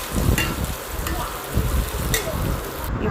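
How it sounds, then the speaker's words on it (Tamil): Boiled raw banana pieces fry in a pan over a medium flame while being stirred, giving a continuous close sizzle broken by scraping stirs at irregular intervals. "நல்லா கிண்டி மீடியம் ஃப்ளேமில் வச்சு சுண்ட நல்லா வதங்கட்டும்"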